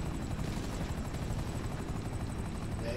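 Helicopter in the video game Grand Theft Auto V, a steady loud rotor thrum with rapid blade chop that runs continuously and close, with no talk over it.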